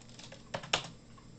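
A few soft, close keystrokes on a computer keyboard while someone searches for a VR game download. The clicks are quiet and isolated, with no talking.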